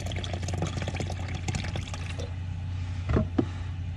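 Coconut water poured into a container for a recovery smoothie, a close splashing trickle for about two seconds, then quieter handling with a couple of brief knocks.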